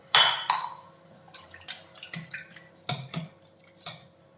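Water poured into a mixer jar, a few sharp splashes and drips clattering against the jar, then scattered trickles and small knocks, close and alone.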